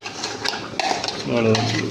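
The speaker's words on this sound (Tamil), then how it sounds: "இந்த அரைச்ச பேஸ்ட்டை இது கூட ஆட் பண்ணுவோம்." Ground paste goes into a pan of channa masala gravy with a few clinks and scrapes of a spoon against the pan, followed by a soft sizzling stir, close and brief.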